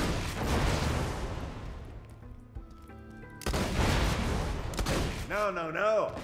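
Sword Explosion weapon effect in a video game: a burst of booming, crackling blasts fades into ringing tones, then a second loud blast follows with a rising and falling whooshing shimmer.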